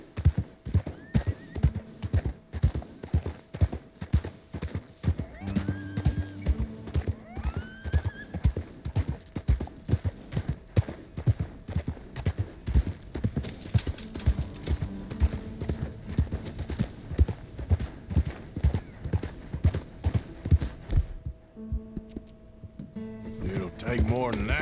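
A horse in Red Dead Redemption 2 trots along with steady, rhythmic clip-clopping hooves, close and continuous, with occasional neighs and a speaking voice over the hoofbeats.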